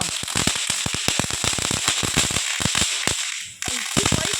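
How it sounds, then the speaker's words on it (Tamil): Firecrackers burst in a rapid string of sharp, loud cracks and pops at a Diwali celebration, the bangs coming close together before a brief lull and a final burst. "பட்டாசு இருக்குது"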